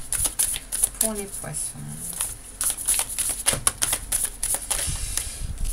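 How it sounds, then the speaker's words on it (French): Tarot cards shuffled in quick, crisp riffling bursts close to the microphone, heard under and between someone speaking French during a reading. "On va brasser un peu le tarot"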